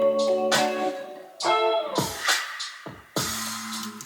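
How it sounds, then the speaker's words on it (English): A reversed finger snap drenched in heavy reverb swells up inside a music production beat, with a few rising whooshes set against tonal notes and no talk. "Right before a chorus, I took a snap and I reversed it and put a lot of reverb"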